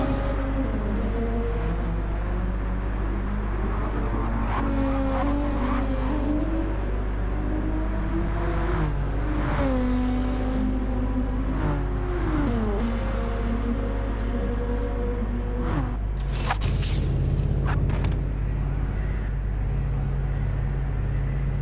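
Race cars in the pit lane during a Bathurst one-hour endurance race in Gran Turismo 7 produce loud, continuous engine drone and rumble, with pitch rising and falling as cars accelerate and pass.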